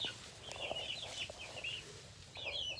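Young chicks in a small greenhouse enclosure cheep and cluck softly in a continuous, overlapping chorus of high chirps, faint and fairly close with no talking.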